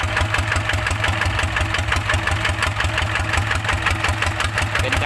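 A loud decorated farm tractor engine runs nearby with a rapid, steady knocking chug and heavy low rumble, no voices over it.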